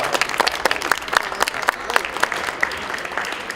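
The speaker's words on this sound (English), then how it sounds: "Let's start giving him a round of applause" Applause from an audience greeting a guest speaker, a school alumnus, at a gathering, with dense clapping throughout, sharp individual claps standing out and a few voices murmuring underneath.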